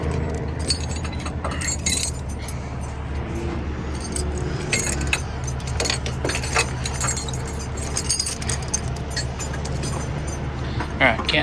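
Heavy tow-truck axle chains clink and jangle in scattered metallic bursts as they are handled close by, over a steady low engine rumble with a voice speaking.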